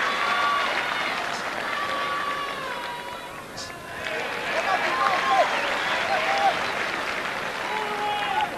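At a 1987 Tonga v Wales rugby match, a stadium crowd applauds steadily as an injured Tongan player leaves the field, a broad, distant wash of clapping under a commentator's voice.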